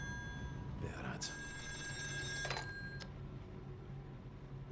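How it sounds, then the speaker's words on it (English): A telephone rings inside a video game with bright, repeating electronic trills over a low background hum, while a character's voice talks nearby. "No. Phone. Better answer."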